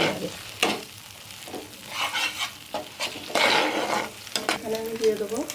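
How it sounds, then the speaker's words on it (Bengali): Doi katla fish curry fries in a pan while a spoon stirs it, giving a steady loud sizzle under repeated scraping and clinking against the pan. The sound is close, with no speech. "এবার আমি এটাকে ভালো করে এর সঙ্গে মিশিয়ে নেব"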